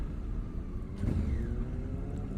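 Engine of a 2017 Honda Africa Twin base-model motorcycle, a thumpy twin, revving steadily near the microphone; a low rumble swells briefly around the middle as it shifts and rev-matches, with no talking.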